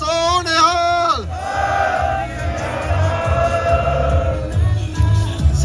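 A Sikh crowd gathered outside the Canadian Parliament in Ottawa answers a leader's call with a loud collective jaikara, a long rising chorus of voices swelling together, then fading into a sustained roar of the crowd.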